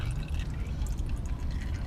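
Engine oil drips steadily from a quad during an oil change with the skid plate off, a close, continuous wet trickle over a low background rumble.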